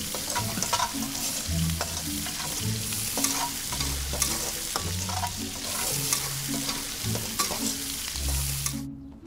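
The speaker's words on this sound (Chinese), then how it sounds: "没关系，葱花肉丝一起炒。" Shredded pork and chopped scallions stir-fry together in a hot wok, a dense continuous sizzle with rhythmic scraping and tossing strokes, plus a low musical score underneath, without speech.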